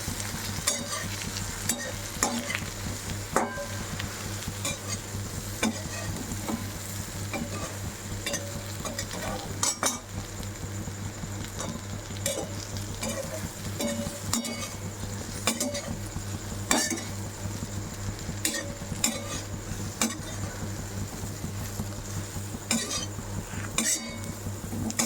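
Patra being stirred with sesame seeds in a pan, a steady sizzle of frying under repeated scraping and clinking of a utensil against the pan, continuing at an even level throughout with no talking.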